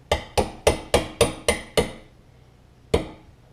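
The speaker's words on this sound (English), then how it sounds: "I like to keep a finger on the back side as I'm tapping it in." Seven quick, sharp metallic hammer taps in an even rhythm, then a pause and one more tap, driving a bushing into a Yamaha Blaster ATV A-arm, close and clear with no voices.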